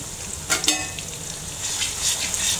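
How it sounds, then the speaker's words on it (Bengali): Chopped onion hitting hot oil in a village kitchen pan, a steady crackling sizzle with a few sharper spits and pops, close and continuous with no talking. "আমি এখন পেঁয়াজটা তেলে দিয়ে দেবো।"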